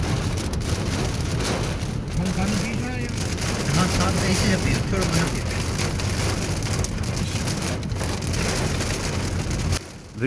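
Heavy rain pours steadily over a roadside cafe near Monal, a dense, loud hiss with spattering drops, while voices talk faintly underneath throughout.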